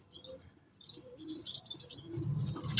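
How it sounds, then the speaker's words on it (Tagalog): Pigeons or doves at a bird breeder's lofts, where young birds are raised, give soft low coos and a few higher chirps. The calls come and go in an irregular, close-by rhythm, with no one speaking. "Healthy ang ibon natin."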